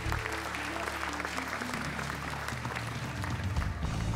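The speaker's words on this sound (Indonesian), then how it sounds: "Tepuk tangan untuk mereka bertiga." Loud, continuous studio audience applause for three stand-up comedians at a Stand Up Comedy Indonesia final, dense clapping sustained throughout with a low hum underneath.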